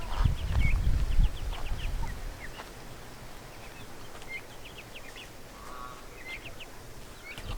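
Chickens and turkeys wander a garden, with scattered short clucks and chirps at moderate distance, a low thump early on, and quiet outdoor ambience between calls.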